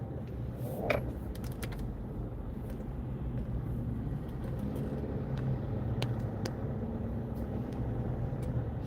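Steady road traffic rolls past with a continuous low rumble and passing engine noise, with small clicks and jingles near the microphone throughout.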